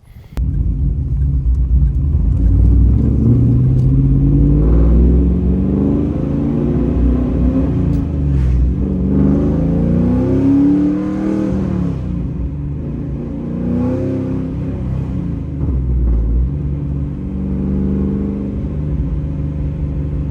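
2002 Pontiac Trans Am GMMG supercar convertible revs hard while driving, its loud engine rising and falling in pitch through several pulls, heard up close without any talk.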